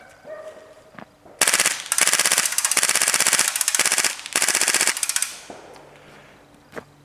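Airsoft gas blowback gun firing on full auto: three to four loud, rapid bursts of sharp mechanical clacks close by, with short gaps between bursts and quieter handling clicks before and after.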